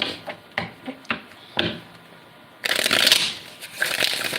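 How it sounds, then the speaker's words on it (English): Tarot cards are shuffled by hand in short riffling bursts and taps, several quick separate flicks followed by a longer, denser riffle, close and fairly soft, with no talking over them. "I'm gonna shuffle until Spirit gives me the green light, Clarabelle, okay?"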